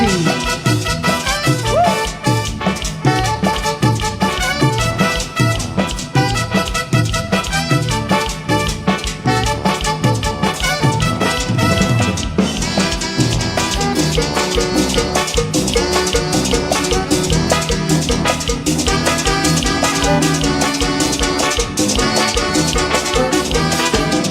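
Lively dance music from a full live band in Chichicastenango, Guatemala, with steady percussion, bass and bright horns driving a busy, loud groove throughout.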